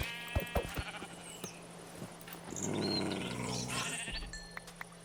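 A sheep bleats in Minecraft, its cry standing out in the middle of the clip among scattered clicks and short game sound effects.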